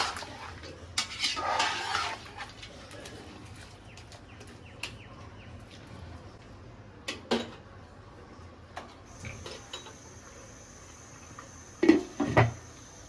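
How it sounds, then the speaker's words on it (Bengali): Goat head curry with mung dal is being stirred in a pot, with a few sparse metal spoon clinks and scrapes over a quiet room and long still pauses between them. "এবার এর মধ্যে দিয়ে নিচ্ছি মুগ ডাল দিয়ে আবারও ভালোভাবে নাড়াচাড়া দিয়ে নিতে হবে"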